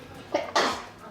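A single short, sharp sneeze, close by, with a quick inhale just before it, in an otherwise quiet room.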